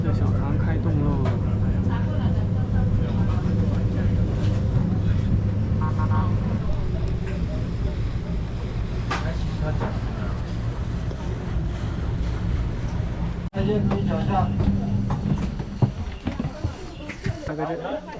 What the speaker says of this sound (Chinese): 司机的小船开动喽